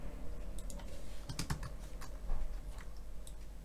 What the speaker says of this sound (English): type like this